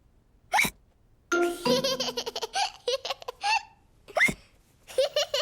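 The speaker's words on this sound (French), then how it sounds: "Georges a bu son jus de fruits trop vite et maintenant, il a le hoquet." A cartoon child hiccups after gulping fruit juice too fast, a few sharp hiccups spaced apart alongside giggly laughter and voiced bursts, close and clear against a quiet background.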